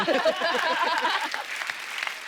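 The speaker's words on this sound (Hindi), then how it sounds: "तालियां, तालियां।" A studio audience on a comedy talk show claps steadily and densely for a couple of seconds, the applause fairly loud and close before tapering slightly.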